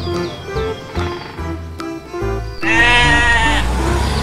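A goat bleats loudly and close, a long wavering cry after a stretch of background music.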